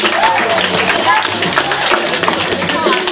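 A crowd at a dance battle qualifier applauds with dense, steady clapping and cheering throughout, with voices mixed into the noise.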